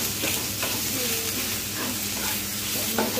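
Chopped tomatoes added to onions in a pan, frying with a steady loud sizzle and hiss while a utensil stirs them, the scraping strokes close and continuous.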